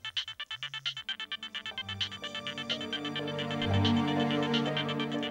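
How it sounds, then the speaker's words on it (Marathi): A telephone ringing in a home, a repeating electronic ringtone with pulsed tones that turn into a sustained melodic chime, fairly quiet and with no talk. "कुणाचा फोन आहे?"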